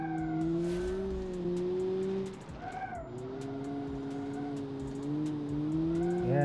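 Game-engine Suzuki Swift hatchback with grippy tires pushed hard in Automation, a steady engine whine climbing in pitch, dropping sharply at a shift, then rising again amid brief tire squeals.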